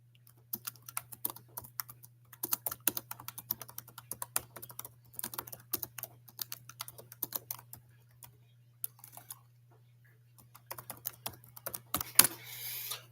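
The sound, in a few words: typing a reply on a computer keyboard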